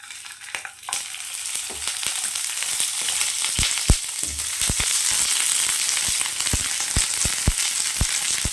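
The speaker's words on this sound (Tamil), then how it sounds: "இதை நல்லா வறுத்துக்கலாம் சின்ன வெங்காயம் சேர்த்துக்கலாம் கொஞ்சமாக எண்ணெய் சேர்த்துக்கலாம்" Dried red chillies and small shallots sizzle in a little oil for a fish curry, a steady close frying hiss with sharp pops and crackles scattered through it, no voices.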